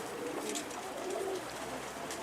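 Pigeons coo softly in a coop, a low murmuring call recurring through the short stretch amid faint background noise.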